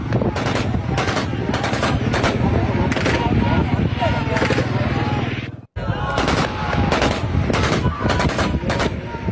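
Army gunfire on people in Rawalakot, bursts of rapid automatic shots in uneven clusters, loud and harsh over crowd noise, with a brief cut partway through.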